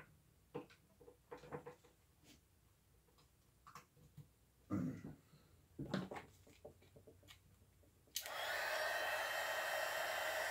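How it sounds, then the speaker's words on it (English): A heat gun switches on after a stretch of quiet handling clicks and taps, then blows with a steady, loud, airy roar that runs to the end. "Fire up the old heat gun."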